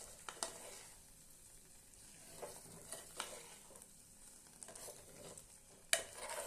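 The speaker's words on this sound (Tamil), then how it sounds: "இப்போ எல்லாம் ஒன்றா நல்லா கலந்து விட்டுறலாம்." Aval sweet pongal with ghee stirred in a pan: faint, soft scraping strokes over a low sizzle, then a sharp utensil clink near the end.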